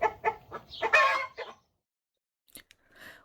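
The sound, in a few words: chickens clucking in a coop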